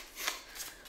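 A deck of cards for the Arkham Horror card game is riffled in a brief, close, crisp shuffle, with a burst of papery fluttering and a softer second rustle, no talking.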